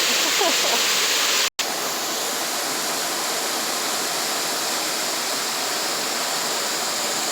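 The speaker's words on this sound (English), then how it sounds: "And that is Rocky Brook Falls" Rocky Brook Falls in the Maine north woods gives off a constant rushing hiss of falling water that fills the scene evenly. It cuts out for an instant near the start, then resumes unchanged.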